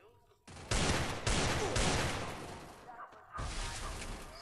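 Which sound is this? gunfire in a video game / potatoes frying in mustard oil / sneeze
gunfire in a video game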